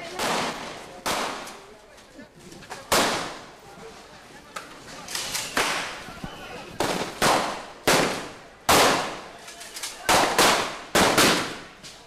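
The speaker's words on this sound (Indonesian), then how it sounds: "Suara tembakan dari sejumlah personil polisi terus terdengar" Police fire shots during a riot at a prison in Gorontalo: sharp, loud cracks ring out in irregular bursts, some close together, others spaced by seconds, over a murky background of crowd noise and commotion.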